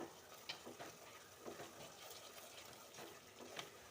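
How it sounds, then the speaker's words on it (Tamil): A spoon stirring tomato rice with coriander in a pan, soft scraping strokes repeating every second or so over a quiet sizzle, close and fairly faint, no voices. "இதையும் நம்ம லைட்டாக கிண்டி விட்டுக்கலாம்"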